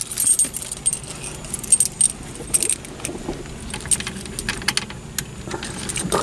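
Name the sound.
car keys jangling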